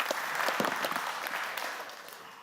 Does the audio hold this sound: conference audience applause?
yes